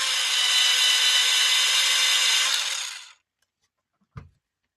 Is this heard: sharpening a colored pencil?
yes